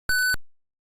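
A computer running 386BSD lets out a single short electronic beep, clear and fairly loud, that cuts off and leaves silence.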